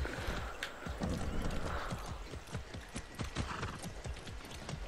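Rhythmic horse hooves clip-clop steadily on a hard surface in the video game Far Cry 6, a brisk trotting beat with light mechanical rattles mixed in, no talking.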